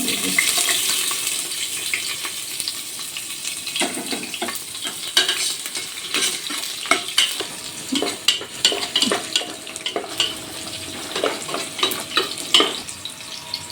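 Dried red chilies and chopped onion fry in a pan, a crackling sizzle punctuated by frequent scraping stirs and clatters of a spatula, close and fairly loud, with no talking.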